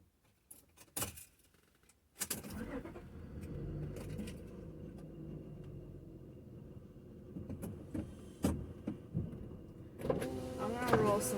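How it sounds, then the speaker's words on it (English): Car power windows whir down inside a hot parked car, a steady motor hum lasting several seconds after a few clicks and knocks, fairly quiet. "I'm gonna roll some windows down."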